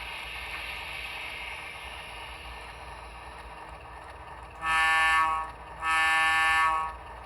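An ATSF RSD5 model locomotive starts up with a low, steady diesel idle rumble, then two loud horn blasts in quick succession near the end, heard alone and fairly quiet overall.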